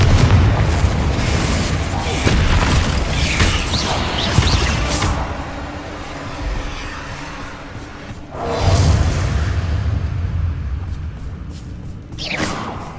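Confringo blasting-spell explosions in Hogwarts Legacy on PS5 erupt as heavy booming bursts with rumbling tails, three or four blasts spread across the span with quieter game ambience between them.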